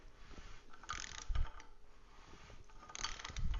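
A torque wrench tightens a bolt to about 30 foot-pounds during an engine assembly. Close ratcheting clicks and metallic clunks come in two bursts, with lighter ticking between them.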